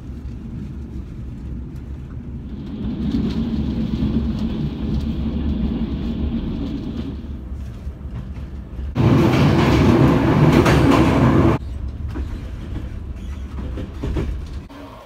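A passenger train on a Bulgarian slow line rolls steadily along the rails with a continuous low rumble heard from inside the carriage, swelling into a louder, harsher roar for a few seconds near the end.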